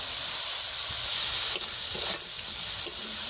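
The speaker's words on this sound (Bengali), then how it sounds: "মশলার সাথে আলুটা খুব ভালো করে ভেজে নিয়েছি" Potato pieces fry in hot oil with chili and turmeric powder, a steady close sizzle and hiss with a few soft stirring scrapes, no voices.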